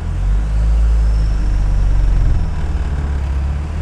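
A Peugeot 405 engine with high mileage pulls in second gear on a dyno, giving a steady, loud, deep drone that shifts into a pulsing throb partway through.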